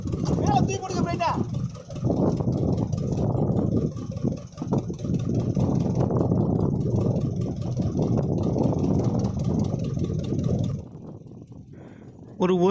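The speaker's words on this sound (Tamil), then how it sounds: "இப்போ 2 படகுகளுமே எங்களுக்கு ரொம்பவே பக்கத்துலேயே கடந்து போச்சு" Two Indian Navy fast boats pass close by at sea after a cyclone, their engines a steady, heavy roar for about eleven seconds before dropping away. People talk over the engine noise.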